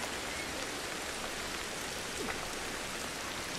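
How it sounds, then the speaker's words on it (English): Steady rain pours in the prehistoric jungle game Ancestors: The Humankind Odyssey, a dense, even hiss of falling water that runs unbroken from start to finish with no voices over it. "Get out of the rain, guys."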